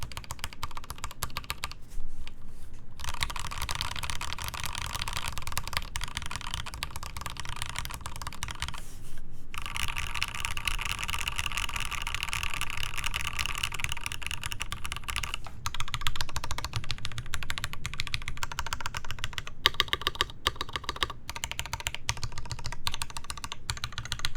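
Typing on a Rama Works Kara mechanical keyboard with resin keycaps, a steady close run of crisp, somewhat hollow key clicks and clacks with brief pauses and no speech.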